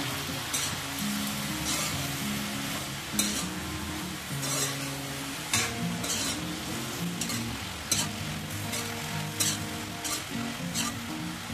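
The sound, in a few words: stirring jackfruit curry with turmeric in a pan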